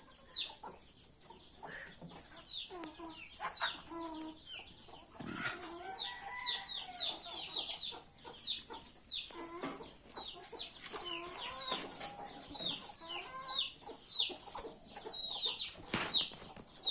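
Native chickens cluck and chatter in a small backyard, with several birds calling at moderate distance over a steady high insect-like drone and occasional wing flaps.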